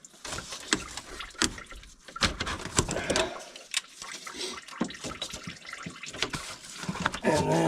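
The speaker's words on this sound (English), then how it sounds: "Let tranny fluid all pour in your antifreeze bucket because that's what you want." Transmission fluid pouring from a loosened radiator line clamp into an antifreeze bucket during a radiator swap on a 1999-2006 Chevy Silverado or GMC Sierra, a steady close liquid splashing with irregular sharper drips and knocks.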